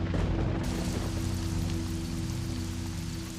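Heavy rain falls in a movie scene, a dense continuous downpour with a steady low rumble underneath and no talking.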